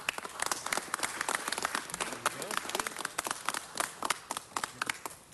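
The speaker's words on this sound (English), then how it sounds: "Let's give them all another round of applause." Applause for city bureaus at a Los Angeles City Council presentation: dense, steady clapping from a room of people fills the whole stretch, with sharper individual claps standing out.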